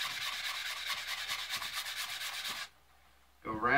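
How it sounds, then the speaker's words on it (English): Store-bought wooden ax handle hand-sanded with coarse or medium sandpaper, a close, steady back-and-forth rasping rhythm that stops briefly, then resumes with a scrape. "Then you just want to sand this down until it's smooth."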